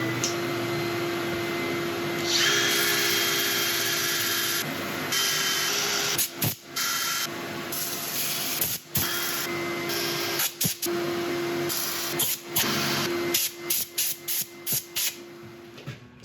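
Continuous hissing, whirring rasp of sanding a turned wood and resin piece on a lathe, with a steady motor hum, brief interruptions and shifts in pressure.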